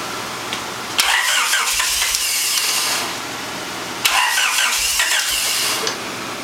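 A vehicle engine cranks and catches twice, each start a sudden loud burst that settles into a rough running roar, then fades, close by with no talk.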